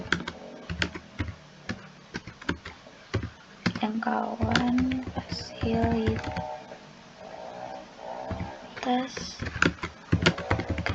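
Someone types steadily on a computer keyboard while working in ArcGIS mapping software, with irregular clicks and keystroke bursts running under a person talking throughout.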